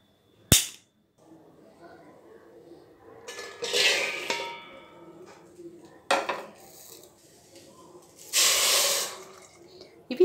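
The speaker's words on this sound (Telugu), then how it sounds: "ఇలా కొంచెం మునిగే వరకు వాటర్ తీసుకోండి చాలు" Water poured into a wide bowl of sweet corn kernels on the stove arrives in two short splashing pours, set among sharp clinks and knocks of the vessel in a quiet kitchen.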